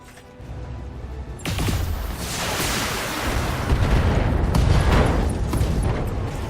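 A heavy ammunition explosion in the mech combat game BattleTech bursts into a roaring, rumbling blast that swells and sustains for several seconds, loud and close, with no voices over it.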